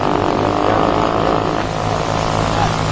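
A vintage propeller aircraft drones steadily through its landing, a loud continuous engine and airscrew hum with no break.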